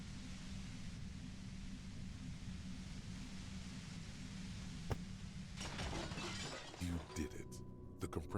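A compressor machine is smashed in the game Disco Elysium, a sharp crash followed by clattering, shattering breakage cutting through a steady background of white noise and a low droning hum.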